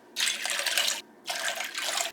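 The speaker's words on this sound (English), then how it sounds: "Now I'm gonna add my water, and I'm gonna do twice the amount of water as I did pasta." Water poured from a cup into a small slow cooker for lasagna soup, two close, steady splashing bursts separated by a short pause.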